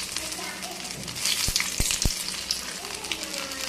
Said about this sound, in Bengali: ভালো করে ভাজতে হবে শাপলা ফুলের বড়া খেতেও কিন্তু বেশ ভালো লাগে